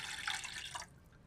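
Vegetable broth, about one and a half cups, poured into a pan in a home kitchen, a short bright splashing pour of under a second that stops abruptly, close and fairly quiet, with no talking.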